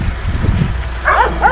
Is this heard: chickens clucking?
no